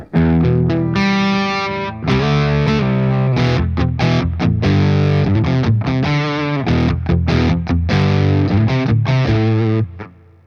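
A heavily distorted electric guitar plays chords and riffs through a PRS Sonzera 50 amp head with overdrive at about 2, loud and sustained for several seconds, with no voices.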